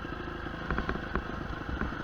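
A motorcycle engine rumbles steadily during a relaxed ride, a loud continuous mid-pitched drone with slight fluctuations and no talking.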